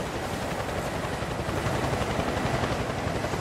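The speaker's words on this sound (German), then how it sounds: "Haben wir diesen doofen Helikopter hier?" A video game helicopter's rotor thumps in a fast, steady chop, droning loudly and evenly without any voices over it.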